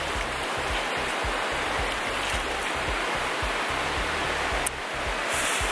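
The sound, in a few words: water flowing over rocks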